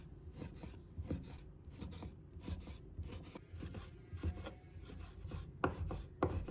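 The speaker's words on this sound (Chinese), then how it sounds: "再准备1块五花肉，把它切成片， 再切成长条。" A knife slices pork belly into slices and then long strips on a cutting board, making a quick series of soft, rhythmic cutting strokes with a light scraping texture, fairly quiet and close.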